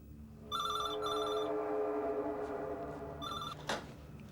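A telephone rings indoors in the evening with two quick bursts of bell-like trilling, a pause, then a third burst, close and clear over a quiet background hum.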